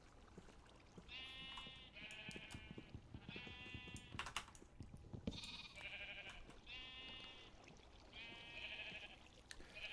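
Sheep in Minecraft bleat over and over in a steady run of about half a dozen wavering calls, quiet and fairly close, with soft keyboard-like clicking underneath.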